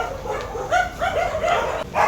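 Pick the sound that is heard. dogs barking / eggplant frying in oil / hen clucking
dogs barking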